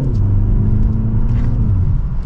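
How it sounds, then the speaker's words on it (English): A 2024 BMW 330i xDrive M Sport accelerates hard while passing another car, its engine a loud, steady low rumble and rising drone heard from inside the cabin with no talking. "We'll do another acceleration here real quick as we pass another 330."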